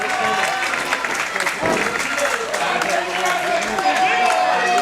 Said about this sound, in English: This crowd trying to rally behind ASF the best he can